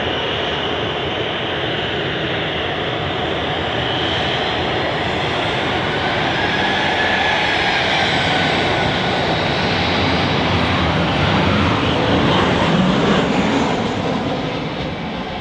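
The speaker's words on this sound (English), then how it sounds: "another Ryanair 737. About to depart, nice and close" Loud, close roar of a Ryanair Boeing 737 jet about to depart at Manchester Airport, a dense broadband rush that swells slightly toward the end and carries on without pause.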